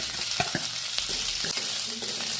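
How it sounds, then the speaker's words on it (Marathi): Boiled potato pieces and roasted peanuts sauté in oil in a pan, giving a steady crackling sizzle broken by several close scraping and tapping stirs against the metal, with no talking. "बटाटा पण छान परतून घेऊया आपण"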